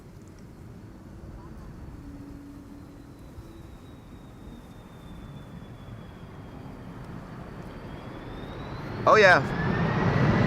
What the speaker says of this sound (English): This is Delta Airlines Flight 74, arriving from Atlanta, Georgia.